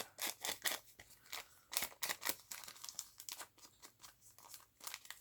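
Scissors snip through paper and tape on a craft file folder, a quick series of sharp crisp cuts and crinkles heard close up in a quiet room.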